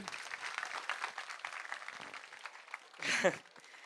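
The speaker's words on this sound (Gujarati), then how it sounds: "જોરદાર તાળીઓ" A short, dense burst of applause from a talk audience rises near the end, following a stretch of busy crowd chatter and murmuring.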